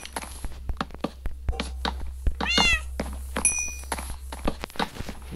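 A Minecraft cat gives one clear, close meow amid a steady run of blocky footsteps and clicks, with a brief high chime afterward and a low constant hum underneath.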